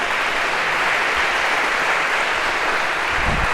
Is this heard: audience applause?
yes